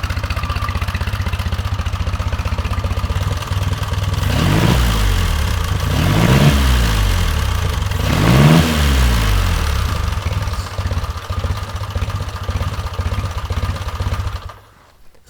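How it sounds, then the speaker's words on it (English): A Detroit-built Henderson 1000cc four-cylinder, three-speed motorcycle runs with a smooth, steady engine drone that swells in two rising passes as it goes by, then fades away near the end. "there's nothing smoother than a Detroit-built Henderson, 1000 cc's, 3-speed"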